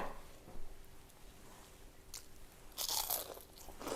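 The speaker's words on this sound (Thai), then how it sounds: "อืมกรอบอร่อย" Batter-fried wild garlic leaves bitten up close, giving a few crisp crunches separated by quieter chewing, with the loudest crunching burst near the end.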